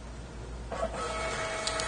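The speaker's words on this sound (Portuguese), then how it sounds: "ele já vai emitir para mim aqui um relatório de fechamento de dia, a redução Z da impressora" A fiscal ECF receipt printer prints an end-of-day Z reduction report, its mechanism whirring and buzzing steadily for over a second after a quiet start, close and moderately loud.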